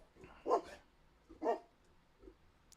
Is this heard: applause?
no